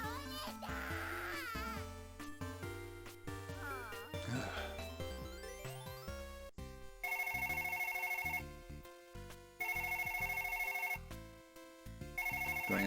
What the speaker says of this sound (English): Do I answer the phone?